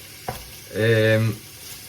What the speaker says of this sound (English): the bacon's starting to cook nicely now